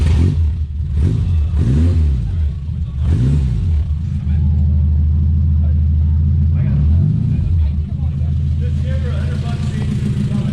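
Deep, rumbling 1969 Opel GT engine with a throaty custom exhaust of two glass packs, revving up and down several times, close and loud, with voices talking over it.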